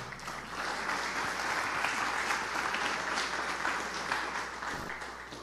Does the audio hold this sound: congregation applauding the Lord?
yes